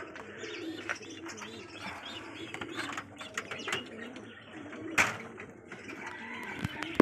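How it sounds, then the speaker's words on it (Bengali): Fancy pigeons coo continuously in a busy loft, with scattered chirps, wing rustles and clicking noises mixed in. "এইখানে দেখো সব থেকে ভালো পায়রা রয়েছে"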